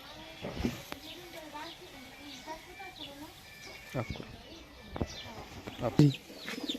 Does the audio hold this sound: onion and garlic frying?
no